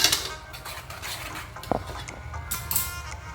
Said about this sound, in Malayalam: ഫ്ലെയിം സ്ലോ ചെയ്ത് നമുക്കിതൊന്ന് ഇളക്കി കൊടുക്കാം